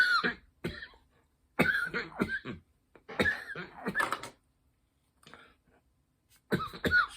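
A man coughs hard in several separate fits after taking a strong hit from a smoke, with short harsh bursts and gaps of quiet between them, close to the microphone.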